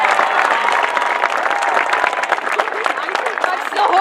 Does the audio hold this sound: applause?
yes